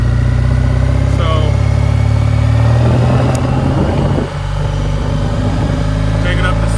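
A Triumph Bonneville motorcycle engine runs loud and steady, with a brief dip in the engine note around a gear change into second, under continuous low rumble; speech is also present.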